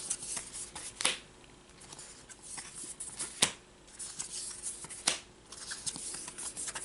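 Playing cards for the Marvel Legendary deck-building game are shuffled by hand at close range, soft riffling bursts with several sharp snapping riffles spaced a second or two apart.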